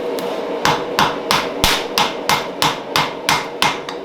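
A blacksmith's hammer strikes a hot multi-bar steel billet during forge welding for a seax blade, eleven loud, evenly spaced blows ringing close by with no talk.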